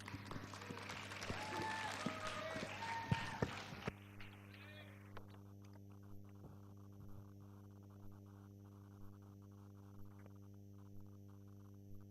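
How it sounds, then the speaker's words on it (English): Audience applause at a university electrical engineering night before a stand-up comedy act, a brief burst of clapping mixed with voices that cuts off after about four seconds, leaving a steady electrical hum with faint knocks. "Round of applause, please."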